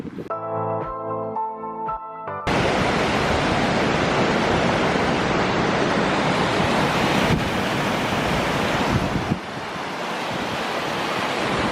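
Ocean waves in Iceland wash loudly and continuously along the shore under strong wind buffeting the microphone, after a short stretch of background music.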